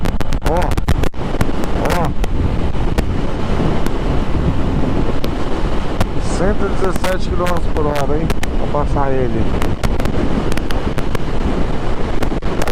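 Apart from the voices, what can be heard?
strong wind buffeting a riding motorcycle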